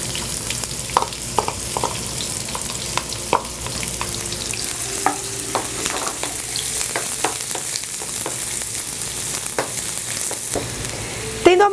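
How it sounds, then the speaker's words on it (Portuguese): Onion frying in hot oil, a steady broadband sizzle and crackle running throughout, with occasional clicks and stirring knocks from a pan, close and fairly loud, no talking. "A gente vai esquentar o óleo para fritar a cebola."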